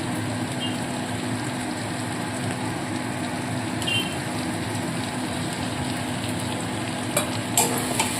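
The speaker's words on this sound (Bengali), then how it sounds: "এবারে এর মধ্যে চিকেনের টুকরোগুলোকে দিয়ে দেবো" Chicken pieces fry with spices in a pan, giving a steady close crackling sizzle throughout, with a few brief scrapes and clinks near the end.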